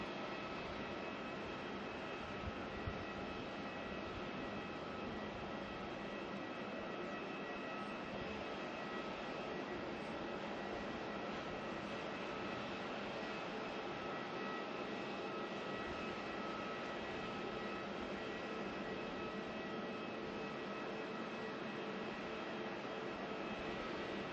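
Steady broadband roar of airliner jet engines at Melbourne Airport, likely a Jetstar jet down on the ground, constant and fairly distant throughout with no voices.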